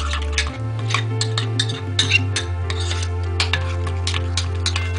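Yogurt masala paste for tandoori chicken being stirred in a bowl, with repeated scraping and clinking strokes of a spoon over a steady low background hum, and no talking.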